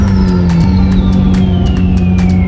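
A Ferrari F430 engine holds a high, steady roar up to 8,500 RPM with a rising and falling whine, loud and close, with rapid pulsing bursts throughout.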